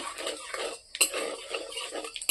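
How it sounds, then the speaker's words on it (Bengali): Bay leaves and black cumin being stirred in a pan with a metal utensil for a light rohu fish curry, quick close clinks and scrapes against the pan over a soft sizzle. "1 টেবিল চামচ কালো জিরে, একটু নেড়ে নেব।"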